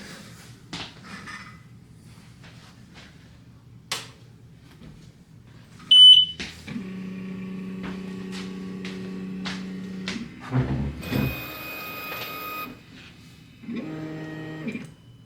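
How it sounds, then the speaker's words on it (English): An xTool S1 laser engraver powering up: a sharp start-up beep, then steady electronic tones and hums, with motor whirs and further short beeps across the stretch, all close and with no talk. "Now we can go and turn on the machine."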